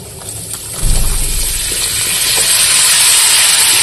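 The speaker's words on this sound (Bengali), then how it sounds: "এবার আমি এর মধ্যে কুমড়োটা দিয়ে দেবো।" Ash gourd pumpkin hits a pan of sautéed garlic, ginger, cumin and coriander with a soft thump, followed by a loud, steady sizzle that grows and holds to the end.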